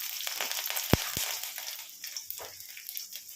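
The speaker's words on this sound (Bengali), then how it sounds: "তেল গরম হয়ে গেছে, আমি এখানে একটু পাঁচফোড়ন দিয়ে দেবো আর দুটো কাঁচা লঙ্কা।" Panch phoron spices and green chillies hitting hot oil for a potato and borboti curry, a steady close sizzle and spatter with a couple of sharp pops near the start.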